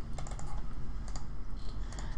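Fast, light keystrokes tap away in quick irregular bursts on a computer keyboard while typing code, close by, with a faint background hiss.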